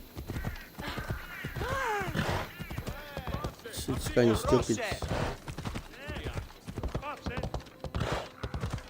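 Horse hooves clip-clop at a steady rhythm while a rider travels in Assassin's Creed Odyssey, heard under continuous talking that runs through the whole stretch.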